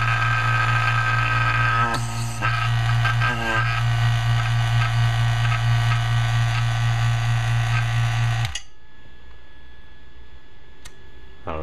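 A Harbor Freight 3 CFM two-stage vacuum pump runs on a bench, a steady mechanical hum with strong low drone and buzzing overtones for several seconds, a couple of clicks midway, then cuts off abruptly leaving quiet.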